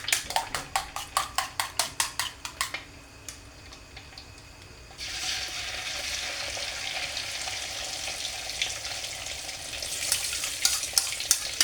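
Omelette sizzling in hot oil in a home kitchen: a few seconds of rhythmic whisking taps, a brief pause, then a steady loud crackling fry that continues to the end.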